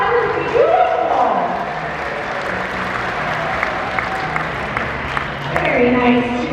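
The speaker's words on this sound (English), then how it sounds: "All right, you guys give him a big round of applause." An audience applauds at a beluga and dolphin show, a steady crowd clatter lasting several seconds, with a voice and whistle-like tones heard over it.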